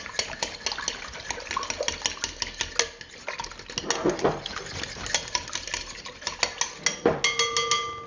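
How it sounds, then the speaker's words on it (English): Eggs beaten in a bowl with a utensil, a quick run of sharp clinking taps against the bowl sides in uneven bursts, close and clear, with no talking. "we're just going to beat up the eggs here"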